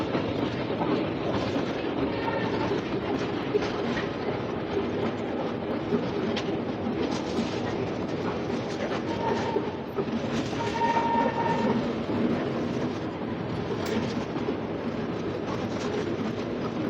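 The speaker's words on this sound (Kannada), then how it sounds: "Mysuru Talaguppa intercity express main stop Shivamogga ಟೌನಿಗೆ ಬಂದೈತ್ರಿ" The Indian Railways Mysore–Talaguppa Intercity Express, train 16206, runs near Shivamogga, giving a continuous close rumble with a rhythmic clickety-clack of wheels on the rails.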